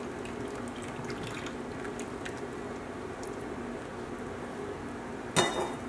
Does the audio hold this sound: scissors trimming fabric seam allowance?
no